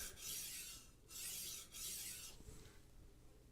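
Three steady rasping sharpening strokes of a knife blade, close and rhythmic, each about half a second long with short pauses, raising a burr, followed by a fainter partial pass.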